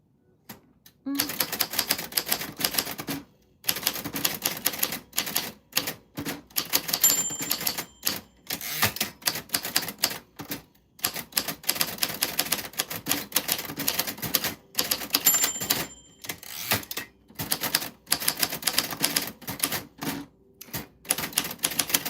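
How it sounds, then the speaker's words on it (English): Typewriter typing out a name, a long run of rapid, close mechanical key strikes in uneven bursts with short pauses between them and a couple of faint bell rings. "Bella, that's how your name sounds on a typewriter."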